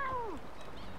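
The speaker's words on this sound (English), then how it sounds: "So those were the cats that were meowing on the entire time during that conversation." A cat in Drakensang: The River of Time gives one clear, close meow that slides downward in pitch, followed by quieter background ambience.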